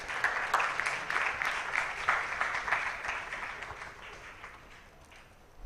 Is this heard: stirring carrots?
no